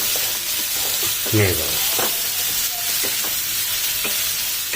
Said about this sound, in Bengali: টমেটোটাকে এখানে বেশ ভালো করে মিক্স করবো।